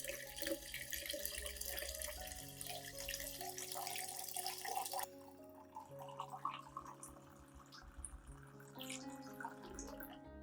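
Clean water poured into a diluted banana peel and coffee solution, a soft running, splashing flow at first that settles into quieter trickling and dripping, faint and alone.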